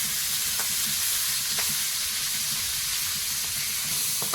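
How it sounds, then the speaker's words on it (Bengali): Shrimp frying lightly in hot oil with turmeric and salt after ginger-garlic paste: a steady, dense sizzle close up, with a few faint clicks of stirring beneath it. "চিংড়ি মাছটা হালকা ভেজে নিয়ে"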